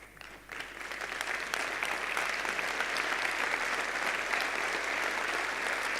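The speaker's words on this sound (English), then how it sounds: "Let's give Rob a round of applause to celebrate his life and his contribution to our industry." A conference audience at the DevOps World | Jenkins World 2018 awards ceremony in Nice breaks into applause, swelling within half a second into sustained, even clapping from a large room that holds for several seconds.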